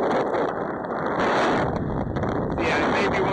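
Gusty wind buffets a microphone outdoors on a cold day at a paintball outing, a loud, steady rumbling roar with broadband flutter that swells around the middle of the stretch.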